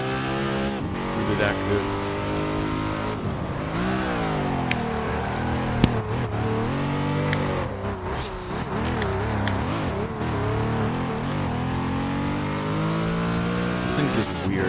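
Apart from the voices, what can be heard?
Ruf RGT car wheel spin in video game Test Drive Unlimited 2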